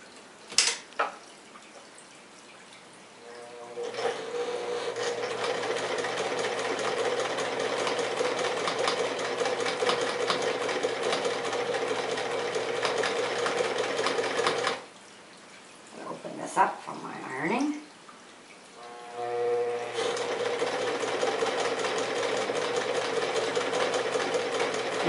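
A sewing machine stitches a close gathering line along the edge of a handmade apron, running steadily in two long bursts with a short pause and a few clicks between, loud and near.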